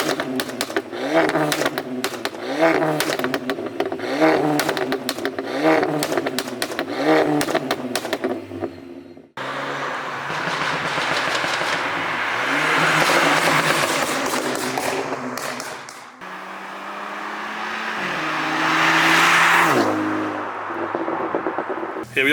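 A loud Brabus Mercedes A-Class engine revs and pulls through rising acceleration runs, with pops and crackles early on, heard up close with some talk mixed in.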